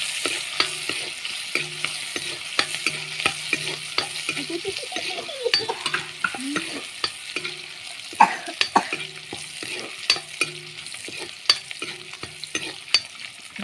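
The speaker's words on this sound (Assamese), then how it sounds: "আদা নহৰু অকণ দি দিছোঁ তাৰপিছত এইখিনি অলপ ৰঙা হোৱালৈকে মই ভাজি ল'ম" Oil sizzles steadily as ginger and garlic fry while a spoon stirs and scrapes the pan, the frying crackle continuous with light tapping knocks throughout.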